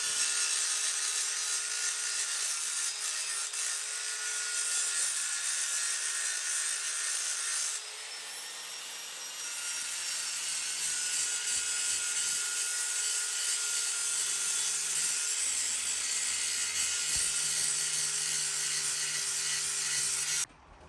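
A car alloy wheel on a Corsa Black Edition being ground down with 80-grit abrasive, a loud, steady, harsh power-tool whine that runs almost continuously with a brief drop in pitch and level partway through.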